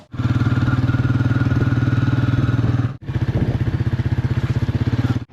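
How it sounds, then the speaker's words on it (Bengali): Motorcycle engine running steadily while riding toward a picnic spot near Maithon Dam, a close, loud, even engine drone with a brief gap around three seconds before it resumes. "বাইক নিয়েই যাব পিকনিক স্পটে"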